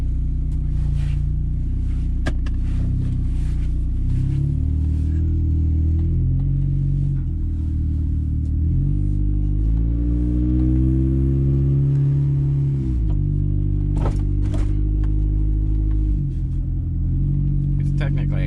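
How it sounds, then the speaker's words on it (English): A 1997 Honda Accord with a broken muffler drives along, its engine a loud, deep droning rumble that rises and falls with revving and gear changes while someone talks over it. "Excuse the sound, the muffler's broke, so she's a little loud."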